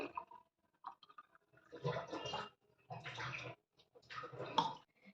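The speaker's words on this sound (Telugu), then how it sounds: "ఈ విధంగా ప్రిపేర్ చేసుకున్న జ్యూస్ని మనం ఒక సర్వింగ్ గ్లాస్ తీసుకొని ఇందులోకి యాడ్ చేసుకోవాలి" Liquid pours in a few separate bursts, a splashing, gurgling stream filling a glass, with short quiet gaps between pours.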